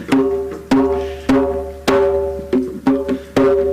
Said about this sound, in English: And a slap is made by hitting the edge of your drum,